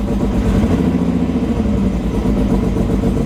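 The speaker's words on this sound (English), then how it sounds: "Let's try and rev it first." A car engine revs loudly and steadily close by, a rough mechanical drone with some clatter, rising and holding without a break.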